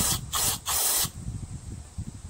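Carb cleaner sprayed into a Tecumseh carburetor from a Craftsman Eager 1 self-propelled lawn mower, heard as three loud, close hissing bursts, the last one longest, then quieter handling noise.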